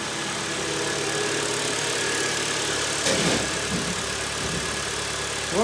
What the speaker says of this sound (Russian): Как и должен КДшный мотор работать.